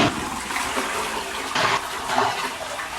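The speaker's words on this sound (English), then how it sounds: "That's him flushing the toilet." A toilet flushing indoors, a steady rushing gush of water running for about three seconds, with a louder surge partway through and a brief swell near the end; no talking.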